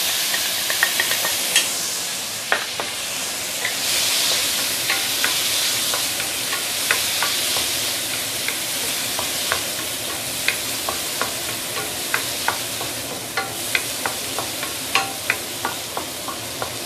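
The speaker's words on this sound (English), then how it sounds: "I'm going to saute this for a minute or two before we continue." Fresh herbs sauté in a pan for curry tofu puff, a steady hissing sizzle with regular sharp scrapes of a spatula against the metal, close and continuous, no voices.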